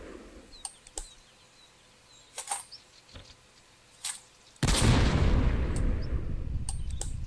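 Gunfire in a video game: scattered sharp shots and impacts at irregular intervals, then a loud sustained blast of noise that carries through to the end.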